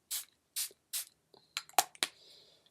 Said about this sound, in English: I'm just gonna spray this real quick and then I'll continue what I was saying.